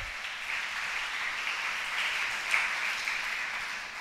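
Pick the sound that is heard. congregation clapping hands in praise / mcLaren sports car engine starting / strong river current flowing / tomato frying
congregation clapping hands in praise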